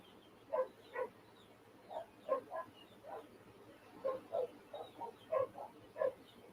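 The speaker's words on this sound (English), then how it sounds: "Dogs are barking at something." Several dogs bark in short, irregular bursts some distance away, faint and thin, with brief pauses between volleys.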